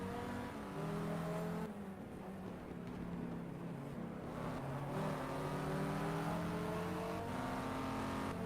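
A race car engine in the video game GTR2, racing the 2003 Spa 24 Hours, drones steadily, with sliding pitch as it revs up and shifts, loud and continuous with no talking.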